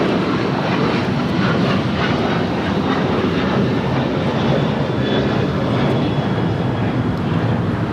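A United Airlines Boeing 737-800 takes off from Los Angeles LAX for Bozeman, a loud, sustained broadband engine roar with a dense rumble and a faint high whine, constant throughout with no voices.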